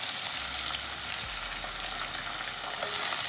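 Tomatoes and tomato puree hit a hot pan of garlic for Mexican rice, setting off a loud, steady sizzle and frying crackle that holds evenly throughout with a brief low thump early on.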